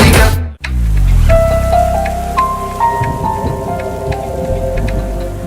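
Heavy monsoon-style downpour in a rural village, a dense roar of rain close by with scattered drips and splashes on a surface, heard alone after a brief cut at the start.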